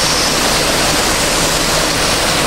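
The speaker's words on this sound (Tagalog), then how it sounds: "May waterfalls dito." A waterfall at Deep Water Bay in Hong Kong pours continuously, a loud, unbroken broadband rush of falling water with no voices over it.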